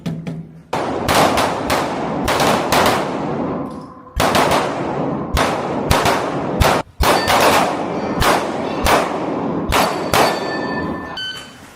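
Gunshots at a shooting test: rapid, loud, close reports fire in quick strings with short pauses between groups, each shot sharp with a metallic ring, and no talk over them.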